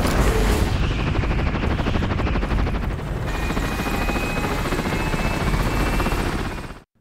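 A helicopter flying over mountains in a film scene makes a loud, steady rotor thrum with bursts of gunfire mixed in, filling the whole stretch before cutting off abruptly at the end.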